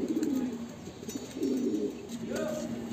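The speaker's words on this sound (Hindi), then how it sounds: "भाई ये मकोया मद्रासी कबूतर है, पुराना कबूतर है" Madrasi pigeons coo repeatedly in low, throaty, rolling calls, close by, with faint background hiss between phrases.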